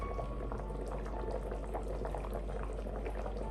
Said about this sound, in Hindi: चावलों में उबाल आ गया।